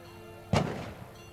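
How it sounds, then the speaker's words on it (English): A single heavy boom of a cannon firing at a distance during a 1996 street festival parade in Jasper, a sharp blast that rolls off into a short echoing tail. "They always fire the cannon off."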